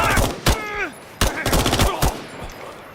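Close gunfire in the tactical extraction shooter Incursion: Red River, two sharp loud shot bursts with echoing tails, separated by short gaps, with faint background noise between them.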